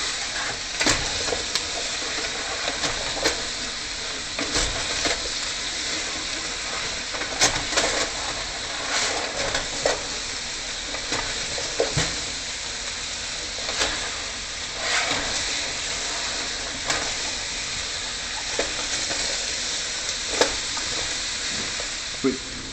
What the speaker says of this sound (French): faire suinter les légumes